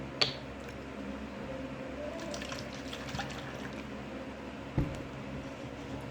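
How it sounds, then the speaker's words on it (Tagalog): Water is poured into a container during a meal, a soft steady trickle running for several seconds, punctuated by two sharp clinks near the start and end. "Lagyan natin ng tubig."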